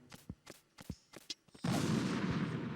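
A C4 charge detonates in Metal Gear Solid 2, a single loud, sustained blast that follows a run of several sharp, spaced shots and then rumbles on at full strength to the end.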